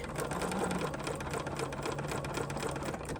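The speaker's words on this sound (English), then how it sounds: "let's just go ahead and give this a stitch. And what I like to do is stitch all the way forward and then go all the way back" A sewing machine runs steadily as it stitches forward and back across the corner of a lined napkin, giving a close, even mechanical whir with a rapid needle rhythm and no voices.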